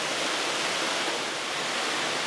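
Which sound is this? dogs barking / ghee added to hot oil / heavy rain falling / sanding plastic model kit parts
heavy rain falling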